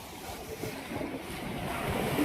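The flooded Vaitarna River rushes in a steady, broad roar that swells slightly toward the end, with wind buffeting the microphone and no voices.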